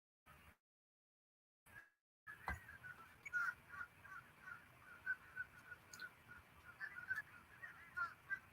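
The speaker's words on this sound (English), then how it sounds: "Hear the crows?" Crows caw repeatedly at a distance, faint and irregular calls carrying over steady outdoor background noise, preceded by a couple of brief bumps.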